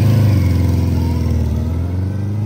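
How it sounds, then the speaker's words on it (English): A 1979 Suzuki GS1000S Wes Cooley motorcycle with original exhaust runs at a steady, loud idle, its low engine rumble even and close with slight pulsing, no talk over it. "Suzuki GS1000S Wes Cooley, 1979"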